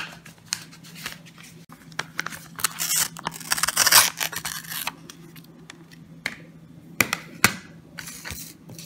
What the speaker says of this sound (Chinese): 这次我们再来开一个信封吧